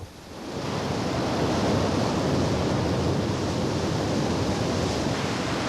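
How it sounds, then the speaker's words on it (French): Water rushing into a crew training tank, a loud continuous roaring gush that swells within the first second and holds steady and close throughout, with no speech. "Il y a de l'eau qui rentre."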